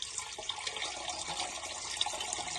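Water gushes and splashes from a freshly unclogged sewer line, a continuous hissing rush of moderate loudness with no voices.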